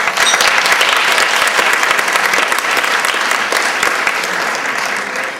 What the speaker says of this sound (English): So we're giving them a round of applause.